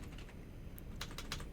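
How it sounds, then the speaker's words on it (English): Quiet typing on a computer keyboard during a cartoon-site livestream, a brief cluster of soft key clicks close by, a few sharper strikes near the end. "Gosh, bad typing today."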